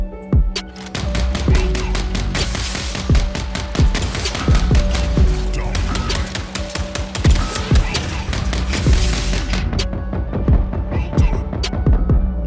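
Pod guns fire in rapid bursts during a Mech Arena battle, a dense loud fusillade of sharp repeated shots over a low throbbing hum, broken by short pauses.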